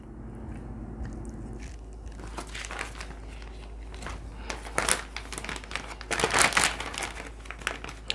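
Plastic bag crinkling and rustling close by while quail are loaded into it for marinating, irregular crackly bursts that grow louder toward the end over a low steady hum.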